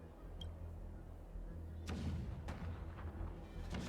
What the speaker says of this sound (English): You hear that? The rumble of the cannons.